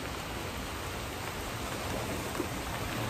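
Heavy rain falls at Micro Beach in Saipan in a dense, even roar of drops on surfaces, loud and close throughout with no voices.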